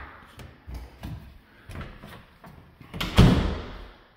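A closet door in a house shuts with a few soft knocks and shuffles, then one firm closing thud near the end, close by and without talk.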